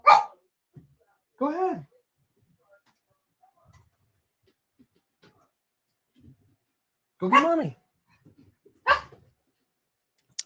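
Dogs let outside to relieve themselves give a few short, whiny barks and whimpers in scattered bursts, fairly close, with a person talking softly between them.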